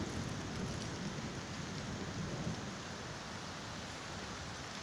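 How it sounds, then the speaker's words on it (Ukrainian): Steady rain pours down in a dense, even hiss during a thunderstorm with wind and lightning, with a low rumble of thunder beneath it. "Громи, блискавки і дощ"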